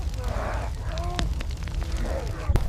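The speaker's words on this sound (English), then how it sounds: "A wall of smoke and fire erupts, preventing the herd from changing direction" Piles of dry brush burst into a wall of fire and smoke with a rushing, roaring whoosh and scattered crackles, ending in a sharp pop, while a voice murmurs faintly underneath.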